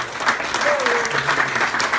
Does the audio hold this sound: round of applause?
yes